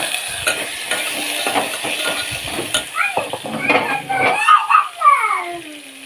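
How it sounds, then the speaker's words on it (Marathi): Guar beans frying in oil with cumin and garlic, a soft steady sizzle with stirring clatter, occasional faint voices in the background. "अशी मस्तपैकी तेलात फ्राय करून घ्यायची. लसूण जिरे लसूण टाकून"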